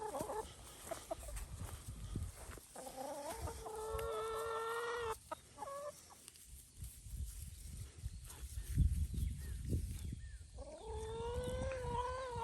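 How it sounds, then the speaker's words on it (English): Several chickens cluck and squawk in bursts across the scene, close by, with brief pauses between their calls amid outdoor rustling. "Chickens want some, don't they?"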